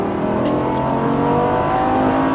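Lamborghini LP570 Superleggera on a race track at full throttle, its engine roaring loud and close in a steady, sustained drone for about two seconds with no talk.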